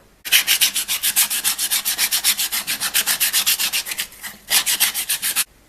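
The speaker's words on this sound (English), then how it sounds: "I'm just going to do some final hand sanding around the edges" Close, steady back-and-forth rasp of hand sanding the edges of a wooden khopesh, a regular scrubbing rhythm with one brief pause before resuming.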